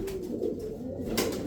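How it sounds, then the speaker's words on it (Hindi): A pigeon coos close by in soft, repeated throaty phrases over a steady low background, with no talk. "ये अपने भाईचारे में आया हुआ कबूतर है।"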